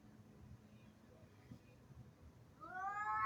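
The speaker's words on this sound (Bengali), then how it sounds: "এই কালো বেড়ালটা অনেকক্ষণ লেজ নেড়ে নেড়ে তারপর ডোমিনেট করে এটাকে তাড়া করে করে সে কোণঠাসা করতে চেষ্টা করছিল" A black cat, outdoors in Qurm after chasing and cornering another cat, gives a near, rising, drawn-out meow at the very end, following a stretch of quiet outdoor ambience.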